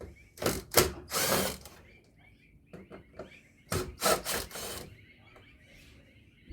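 Screws being backed out of an aircon blower during strip-down, heard as a few close scraping, rubbing bursts of metal and plastic handling with quieter clicks between.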